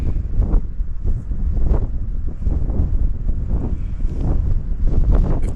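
Blustery wind buffeting the microphone on an open, bald-like mountain trail in Grayson Highlands State Park, a loud, low rumbling roar that gusts and surges continuously.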